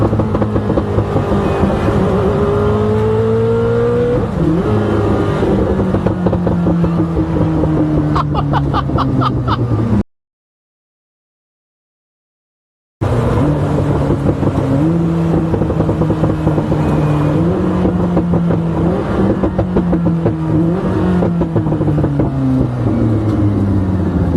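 Koenigsegg Jesko-based twin-turbo V8 loud and close, its pitch climbing and dropping through revs and gear changes, with turbo spool rising over the engine note; the sound cuts out briefly midway before the same hard acceleration resumes.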